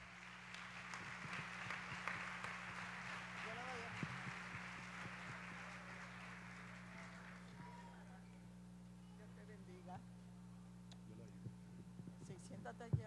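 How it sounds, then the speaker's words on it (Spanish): A gathering applauds to welcome a speaker, clapping strongest early and fading away by the middle, over a steady low hum, with scattered voices and talk continuing afterward. "Recibámosles con un fuerte aplauso"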